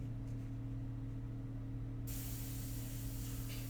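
Airbrush spraying India ink, fed by an air compressor, for portrait painting: a steady low compressor hum runs throughout, then a loud continuous spray hiss starts halfway and holds to the end.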